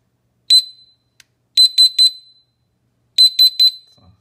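A household gas detector for LPG, natural gas and coal gas is tested in its alarm state, giving sharp, loud, high electronic beeps: a single beep, then a quick triple beep, a pause, and another triple beep.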